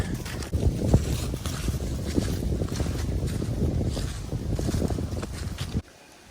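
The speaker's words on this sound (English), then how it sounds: "That's why it's so windy, I think." Strong gusting wind on a mountain ridge line buffets the microphone with a loud, continuous low roar that cuts off abruptly near the end.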